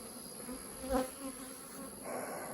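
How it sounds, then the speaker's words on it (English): Honeybees buzzing around hives outdoors, a steady faint drone with one bee passing close and louder for a moment. "There's a lot of bees out here though"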